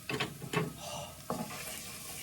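Garlic sautés in a pan, a few scraping stirs breaking over a soft sizzle, close and fairly quiet, with no talk.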